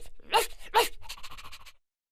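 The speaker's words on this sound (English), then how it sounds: "There's a dog." A dog on a farm gives two sharp, loud barks close together, followed by a softer run of short huffing or panting sounds before falling silent.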